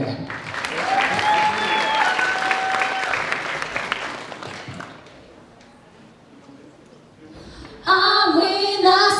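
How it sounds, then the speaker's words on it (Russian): An audience applauds a KVN comedy team at a university league semifinal, with sustained clapping and a few whistles for several seconds. The clapping dies down, then music starts abruptly near the end. "под ваши громкие аплодисменты."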